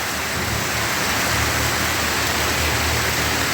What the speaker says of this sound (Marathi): पाऊस पडतोय तर ते पावसाचे थेंब असे वर उडत आहे